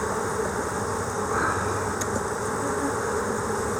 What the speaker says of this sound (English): Those bees are calm.